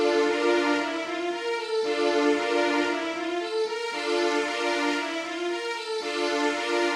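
Unprocessed Korg Triton VST string patch with no EQ or compression, playing sustained string chords that change every couple of seconds, even in level and heard alone.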